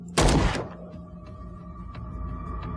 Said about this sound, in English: The shooting is surprisingly satisfying